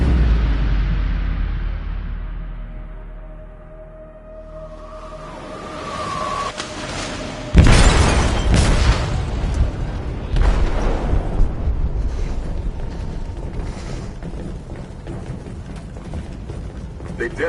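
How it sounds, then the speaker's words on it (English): A detonation in a ship's hold in the video game Detroit: Become Human, a sudden loud broadband blast midway followed by a long rumbling, clattering roar that lingers and slowly fades. "They detonated an explosive in the hold"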